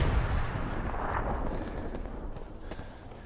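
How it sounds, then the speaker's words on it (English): Artillery booming in a WW2 shooter, a heavy low rumble that opens loud and rolls away over a few seconds with no voices over it. "Couldn't hear you over the artillery, what was that?"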